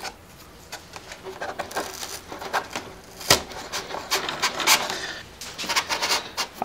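A dowel rod is slowly pushed through holes in foam board while building an FT Warthog A-10 model, giving faint, close scratchy rubbing and small squeaks with a few sharper clicks over quiet room tone.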